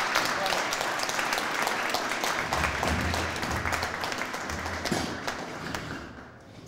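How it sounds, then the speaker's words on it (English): Audience applause at a Fort Erie Race Track press conference, a steady sustained clapping across the room that tapers off toward the end, with low voices and a bit of rumbling movement mixed in. "And so, Kim, come on up for some well-deserved applause."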